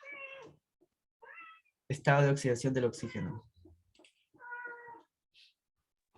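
Short, nasal meows of a cat in a classroom, three brief cries spread across the moment, with a teacher's voice talking loudly between them.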